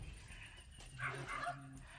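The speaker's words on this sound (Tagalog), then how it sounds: "kung narinig nyo po, may mga aso na kumakahol." Dogs somewhere beyond a house give faint, distant yips and short whimpering barks, soft against quiet background noise.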